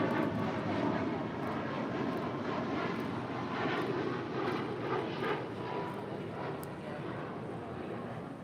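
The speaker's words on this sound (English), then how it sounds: "Next departure here on the south side, United Airlines Flight 2146 heading to Denver, Colorado, a 737-900ER." A United Airlines Boeing 737-900ER takes off from the south side of LAX, bound for Denver: a steady, loud broadband jet roar that holds throughout and fades slightly toward the end, with faint wind noise.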